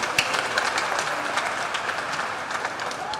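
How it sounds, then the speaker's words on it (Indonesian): Congregation at a Christmas Eve evening Mass applauding the choir, a dense, even wash of clapping from a large crowd in a church, sustained at moderate level without talk. "Ya, tepuk tangan dulu Bapak Ibu."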